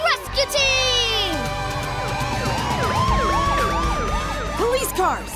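Several emergency sirens wail and overlap, rising and falling in repeated sweeps, loud and close, with a bright rising tone early and voices mixed in.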